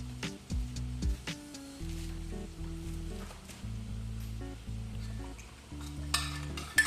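Baby potato curry being stirred with garam masala in a frying pan, with steady sizzling and scraping under music.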